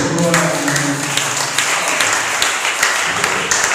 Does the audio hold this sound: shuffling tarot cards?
no